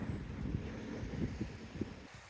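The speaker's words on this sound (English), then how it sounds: "the wind's a little chilly" Chilly wind blowing at a beach in Cape Charles, Virginia, a steady low buffeting roar against the microphone with occasional soft gusts, with no talking.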